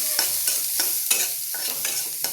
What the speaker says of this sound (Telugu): ఇలా కలుపుతూ ఉండాలి